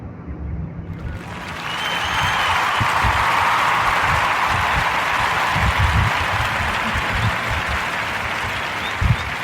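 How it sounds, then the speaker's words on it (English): Warm applause from a live audience at a podcast session, sustained clapping that rises quickly and holds steady for several seconds, fairly close and loud. "Give a warm narrative round of applause for Third Eye View"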